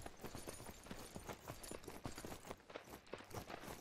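Horse hooves clip-clopping in the video game Myth of Empires, a quick, steady rhythm of crisp hoof strikes at close range, heard alone.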